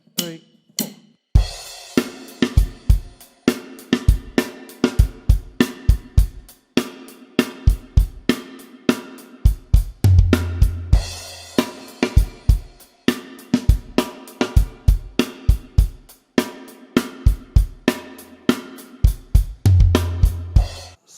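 A drum kit plays the verse groove of a song, with punchy kick, snare and cymbal hits in a steady driving rhythm and occasional low tom rolls, loud and close with no talking.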